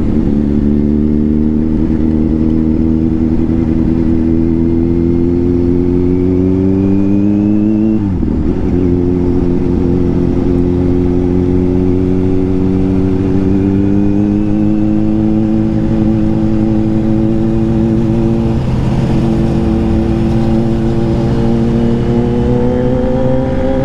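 A Japanese motorcycle engine hums steadily as it rides, its pitch climbing through the gears with two brief drops at gear changes, loud and close.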